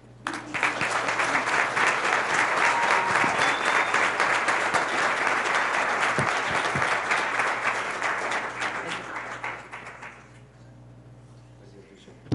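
Sustained audience applause fills a school awards ceremony hall for about ten seconds, loud and steady, then thins out and fades to a quiet room.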